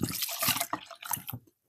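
Water is poured into ground drumstick paste for soup, a brief close splashing and trickling that stops abruptly.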